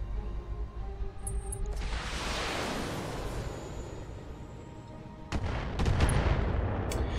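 Turrets in BattleTech fire missiles: a loud whooshing launch builds and trails off over several seconds, then a second volley of sharp blasts and booming impacts hits close near the end.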